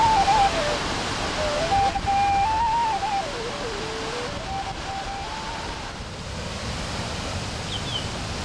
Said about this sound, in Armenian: Նեղոցի ջրվեժը Եթովպիայի այցեքարտերից է։